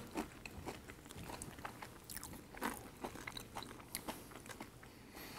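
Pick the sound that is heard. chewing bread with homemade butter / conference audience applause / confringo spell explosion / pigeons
chewing bread with homemade butter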